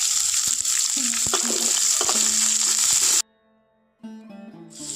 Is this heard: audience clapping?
no